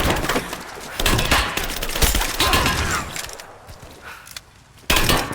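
Heavy automatic gunfire in Rise of the Tomb Raider crackles loud and close in dense bursts, with splintering impacts and brief pauses between volleys, under shouted combat voices.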